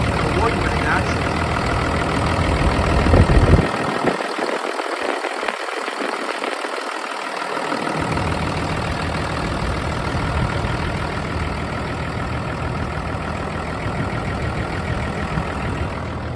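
Hino-made 7.6-liter J08E diesel engine idling in a 2007 Hino 268 box truck, a steady close low rumble, with someone talking over it throughout.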